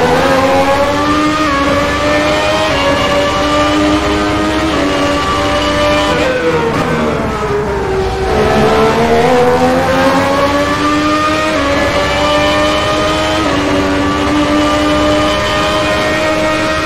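Formula 1 car from a 1994 season mod accelerating through gears, a loud close high-revving engine whine rising, dipping at a shift, then climbing again steadily.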